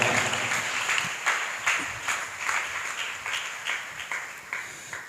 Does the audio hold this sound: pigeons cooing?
no